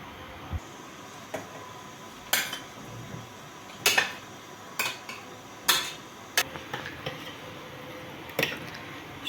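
Peppers tipped into a pan for a Turkish sauce and stirred, with sharp utensil clinks and knocks against the pan at irregular intervals over quiet background, close and fairly loud.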